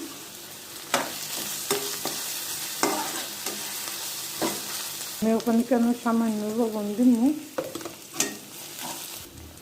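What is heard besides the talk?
onions frying and being stirred in a pan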